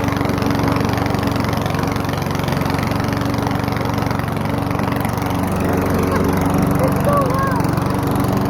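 A loud old lawnmower engine, warmed up and started with ether, drones continuously up close, steady and rough, with no break in the running noise.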